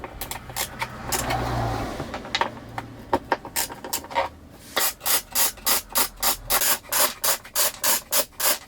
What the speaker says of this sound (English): there are two Torx bolts right here, one here, and they have to come out